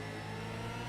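A Gen 3 V8 race car in a racing game at Magny-Cours opening to full throttle, a loud, steady engine roar rising in revs for under a second.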